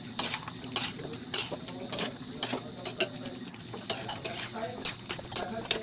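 Fried veggie meat stirred in sweet and sour sauce in a pan, with a utensil clinking and scraping against the metal in repeated sharp taps and a low sizzle underneath, close and fairly loud.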